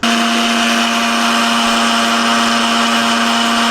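A mixer grinder whirs loudly and steadily, grinding idli rava into powder, a constant high motor whine with no pauses, close up and alone.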